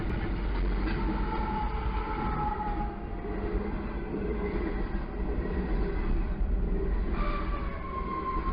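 A train rumbles past with a steady, heavy rolling noise and a horn-like tone sounding briefly near the start and again toward the end.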